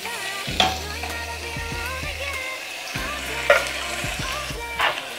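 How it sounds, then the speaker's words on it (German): Chopped tomatoes hit a pan of frying onions and garlic, which sizzles continuously while a utensil stirs and scrapes with a few sharp clacks against the pan. Nobody speaks. "nachdem unsere Zwiebeln und Knoblauch jetzt so ein paar Röstaromen gekriegt haben, gehen wir hin und gehen unsere Tomate hier dazu"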